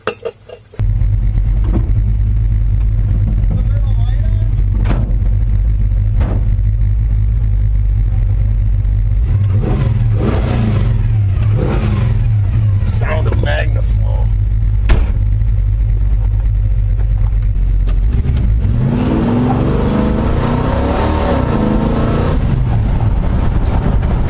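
A 1952 GMC pickup truck engine, fitted with a new carburetor, revs hard and sustained to break the tires loose, a loud close roar with surges and rising pitch toward the end.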